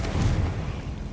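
Confringo spell explosion in Hogwarts Legacy, a single deep booming blast with a heavy low rumble that fades over about a second.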